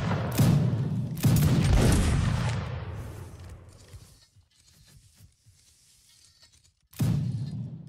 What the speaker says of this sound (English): Aim at their belly button and fire.